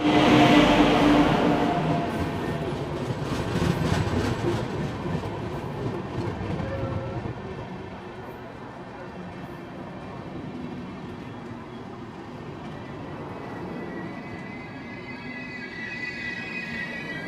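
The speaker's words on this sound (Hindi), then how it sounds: "यहाँ से दोनों ट्रेनों को पैरेलल डिपार्चर दे दिया है अपोजिट डायरेक्शन में।" Indian Railways trains pulling out in opposite directions, including the Visakhapatnam–Amritsar Hirakud Express, with loud metallic wheel squeal and rumble fading into a steady, quieter rolling drone and faint clatter over about seventeen seconds.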